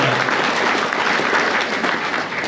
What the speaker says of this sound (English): So big round of applause for Colin as well